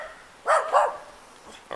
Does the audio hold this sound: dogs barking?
yes